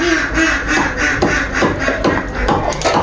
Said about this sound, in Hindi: और ऊपर से बत्तख आवाज़ दिए जा रही है